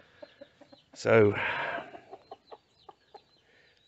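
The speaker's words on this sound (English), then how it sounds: "It's a chicken pen." A chicken in a backyard chicken pen gives one loud, close squawking cluck, with soft rhythmic clucks and peeps from the flock before and after it in an otherwise quiet pen.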